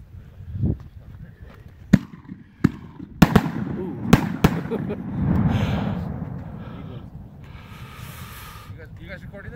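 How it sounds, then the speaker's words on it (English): A 6-inch strobe rocket firework with a blue peony effect, heard outdoors. Sharp cracks and pops go off in a loose series, followed by a rushing hiss and fizzing crackle, with faint voices in the background. "6-inch strobe, blue peony color."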